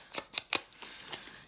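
Scissors snip through paper for a decorated paper bag, a handful of short, soft, close cuts in an uneven rhythm, quiet and without talking.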